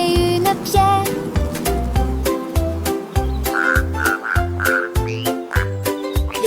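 Frogs croak in a loud, rhythmic chorus of deep repeated pulses, layered with higher chirping calls in a lively musical setting, with no talking.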